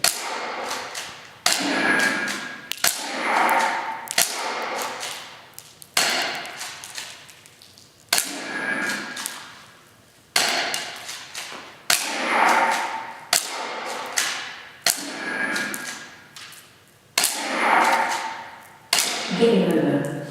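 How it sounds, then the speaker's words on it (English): Airsoft gun shooting pellets at practice targets, with sharp thwacks and thuds recurring roughly every two seconds, each followed by a short electronic tone, while a person talks at times between hits. "So I am going to use the airsoft gun for this."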